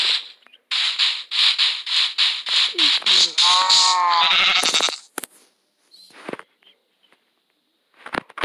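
Several loud, bright Minecraft sheep bleats repeat in quick succession, followed by a few scattered clicks and short squeaky sounds with gaps of quiet.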